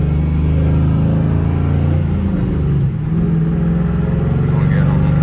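A Chevrolet Camaro SS fitted with new mufflers rumbles loudly up close, its deep exhaust note holding steady with a brief dip and swell as the throttle is worked, sounding throaty rather than quiet.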